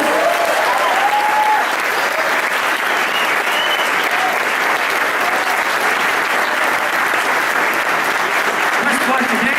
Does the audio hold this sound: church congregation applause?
yes